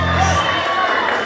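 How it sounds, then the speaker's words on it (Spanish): Club crowd in Bucaramanga, Colombia, cheering and whooping for Señora Gladys at a Grupo Mágico show, a short loud burst of mixed voices with a voice over it at the start. "Palmas para la señora Gladys."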